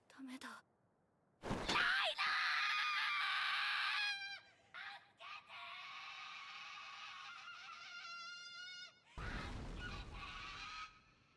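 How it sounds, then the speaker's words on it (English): A woman screams in an Attack on Titan season 4 anime episode: several loud, shrill, drawn-out shrieks broken by short pauses, the last burst rougher and noisier. "she's screaming like crazy"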